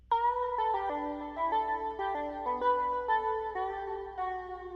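Electronic synth lead with a light touch of delay plays a melodic run of bright notes, mostly quick steps with a few held tones, faint echoes trailing each note, heard alone.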